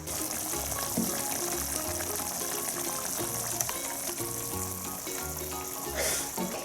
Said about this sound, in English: I'm gonna put 3 cups of water to cook my rice